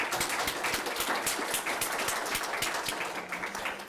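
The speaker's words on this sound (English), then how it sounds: "So let's give him a round of applause and welcome him in." Meeting attendees give a round of applause to welcome a speaker at a DATA general meeting, a dense, steady patter of many hands clapping that carries on for several seconds before slowly thinning out.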